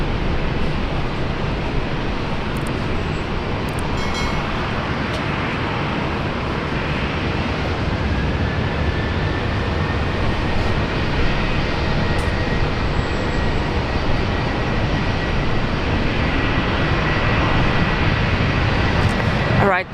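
An Australian airliner taking off from runway 19 left at Brisbane International Airport, a loud sustained jet engine roar that holds steady throughout, with a faint rising tone in the middle.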